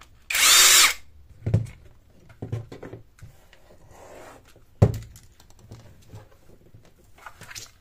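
A power screwdriver buzzes loudly for under a second as it backs out the Phillips battery screws on a JLDTool 20V cordless jet fan, followed by scattered clicks and a sharp clunk of parts being handled nearby.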